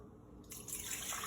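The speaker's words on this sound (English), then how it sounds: "Now let's pour this into the pot." A lemon juice and sugar mixture for fireweed flower juice is poured into a pot, a steady close splashing stream that starts abruptly and continues alone.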